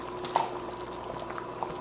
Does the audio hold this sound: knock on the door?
no